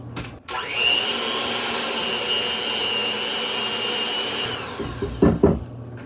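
An electric mixer whirs through pumpkin bread batter with a steady, high motor whine that holds for several seconds, then cuts off, followed by a few clattering knocks.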